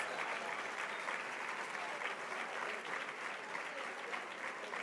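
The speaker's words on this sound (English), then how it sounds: "we can hold this applause a little bit longer." Sustained audience applause fills the hall at a Martin Luther King Jr. memorial breakfast, a dense, even roar of many hands clapping with a faint crowd murmur, no pauses.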